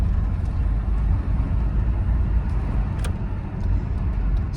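Steady low drone of a Hyundai Santa Fe with a transmission fault, heard from inside while driving, its engine rumble holding even with slight rises as it works through the gears and one brief click.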